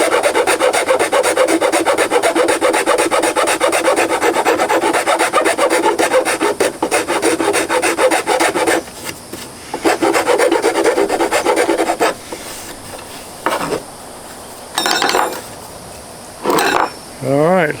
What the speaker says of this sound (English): I'll smooth that out with a sander